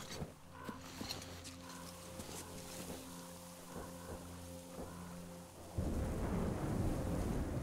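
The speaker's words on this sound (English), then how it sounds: "Shit, there's a storm coming." In the video game Metro Exodus a storm builds, first as a low rumbling drone with rhythmic mechanical knocks, then as a sudden loud rush of wind and thunder-like roar in the last couple of seconds.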